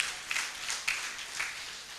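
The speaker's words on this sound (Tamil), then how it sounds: "கைத்தட்டி உங்களை ஆரவாரம் செய்து கொள்ளுங்கள்" Audience applause at the opening ceremony of Kanchi Rotary Dialysis & Medical Centre, a moderate crowd clapping in a soft, continuous wash with a few sharper claps standing out, fading slightly toward the end.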